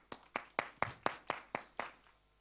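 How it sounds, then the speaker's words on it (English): A round of applause at a youth leadership conference: eight sharp claps at a steady rhythm, close to the listener, with no talking. "let's give them a round of applause"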